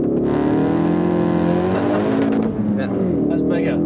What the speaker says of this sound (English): Floor the throttle and drop the clutch, and off you go.